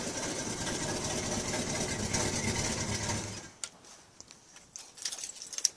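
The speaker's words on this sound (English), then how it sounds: "it runs really good, revs good, just a good old truck" An old truck engine idling with a rough, lopey rumble for about three seconds, then cutting off, followed by quiet clicks and clatter.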